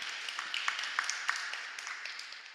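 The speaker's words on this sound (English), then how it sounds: "Can we give Caleb and Mac a round of applause for reading that passage?" A church congregation applauds, a dense, fairly faint wash of many hands clapping that tapers off slightly over a few seconds.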